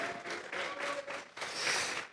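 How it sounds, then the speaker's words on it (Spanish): Congregation applause during a church service, a steady broadband clatter of many hands that swells louder in the second half, with no speech over it. "Vamos a regalarle ofrenda de palmas al Dios de la gloria."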